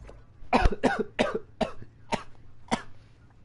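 A run of about seven sharp, harsh coughs in close succession, loud and near, with no talking, during a GTE/LMP2 sim racing league session at Spa.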